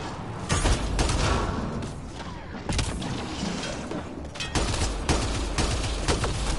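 Gunfire in the sci-fi shooter Mass Effect Andromeda, repeated sharp shots and bursts at uneven intervals over a steady loud background of combat noise.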